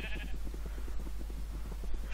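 Sheep bleating in the Minecraft-style game on the Epicube server, a repeated quavering bleat over steady game background noise, with no talking.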